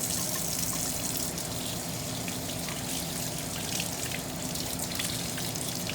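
Water running steadily from a sink tap during hand washing with soap and warm water, a constant close splashing stream with no voices.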